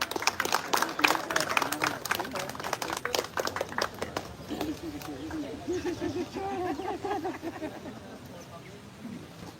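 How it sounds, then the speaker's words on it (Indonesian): Audience applause at an official inauguration ceremony, a burst of close, dense clapping that thins out over several seconds as voices and crowd murmur take over. "Kita beri tepuk tangan yang meriah."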